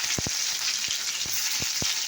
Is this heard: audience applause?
no